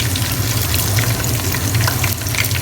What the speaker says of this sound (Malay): Mula-mula kita masuk, campakkan aja daun kari itu. Lepas tu halba campur.